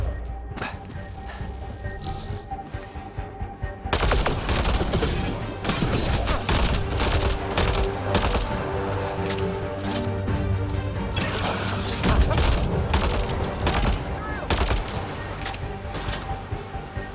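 Rapid gunfire bursts in the sci-fi shooter Mass Effect Andromeda, dense volleys of sharp shots and impacts starting abruptly after a quieter opening and continuing loudly, layered with music and game effects.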